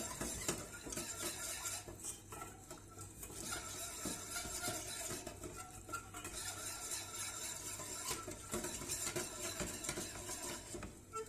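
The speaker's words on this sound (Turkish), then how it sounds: "Şöyle sosumu güzelce karıştırdım" Cake sauce being stirred in a pot produces a quiet, continuous clatter of a utensil scraping and knocking against metal, alone and without any talking.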